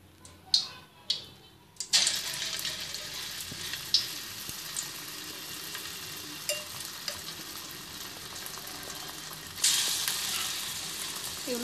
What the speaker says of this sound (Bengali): কাঁটা চামচের মাধ্যমে পিসগুলোকে উঠিয়ে সরাসরি তেলে দিয়ে দিব